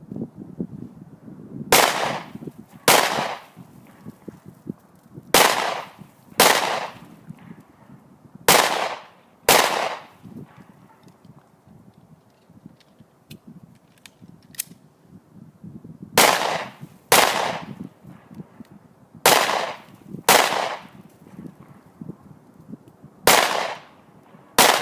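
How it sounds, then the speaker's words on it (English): Rapid pistol fire from a Smith & Wesson Shield during faster combat-style shooting, with sharp loud shots in quick pairs and triplets separated by short pauses, alone without talk. "we'll speed things up a little bit now and see how we do with a little bit faster combat style shooting"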